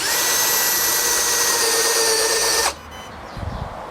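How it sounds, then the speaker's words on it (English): A handheld drill press whirs loudly and steadily for under three seconds, then cuts off abruptly as it reaches its depth stop, leaving quiet room noise and a faint clunk. "I'll just show you what happens when we drill all the way down until it stops,"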